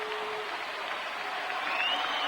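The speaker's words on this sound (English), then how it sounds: "and cheering and hoping that Mark Kotsay can do something here that will send him home happy" Crowd at a Milwaukee baseball stadium cheering steadily at a Cincinnati vs Milwaukee game, a broad, continuous roar from the stands heard at a distance with no voices on top.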